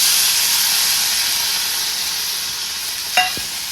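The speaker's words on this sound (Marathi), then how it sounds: "तर जिरी मोहरी छान अशी तडतडले मी कांदा टाकून घेते" Sliced onion goes into hot oil with crackling cumin and mustard seeds, a loud steady sizzle and hiss close by, with a brief clink of a utensil near the end.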